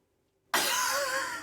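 A person coughing and harshly clearing their throat while choking, a single sudden loud rasping burst right after near silence, close and alone.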